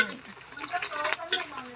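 Hissing and sizzling of egg-battered eggplant frying in a hot pan, with some stirring scrapes, close by and fairly soft.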